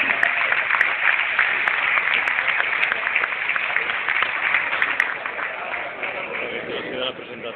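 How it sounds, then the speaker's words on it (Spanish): Sustained audience applause for Javier Tebas at a presentation event, a dense, even wash of clapping from a crowd that fades slightly toward the end, with a few sharp clicks standing out above it. "que Javier Tebas, un aplauso para él."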